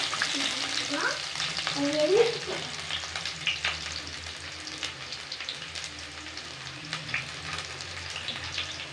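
Onions sizzle and crackle steadily in hot oil while a goat head curry and brain fry is prepared, a close, continuous frying hiss with a brief louder stir of the pan early on.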